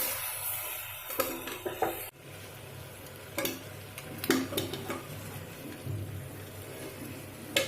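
Country chicken being sautéed in a pan, a steady close sizzle broken by scraping and clinking of a stirring spoon against the metal.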